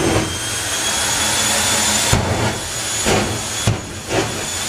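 A jet dragster's afterburner roars at a Bug Jam drag racing event, a loud, close, continuous blast of hiss and rumble that briefly pulses and dips several times.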